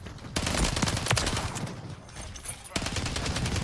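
An automated sentry gun in Modern Warfare 3 fires a rapid, continuous stream of machine-gun shots, loud and close. The burst breaks once briefly and then resumes.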